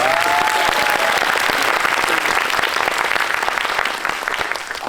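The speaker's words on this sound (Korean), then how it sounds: "큰 박수 부탁드립니다" Audience at a Korean film screening and guest Q&A for the Netflix movie Carter claps loudly, a dense sustained burst of applause that starts strong and fades slightly toward the end.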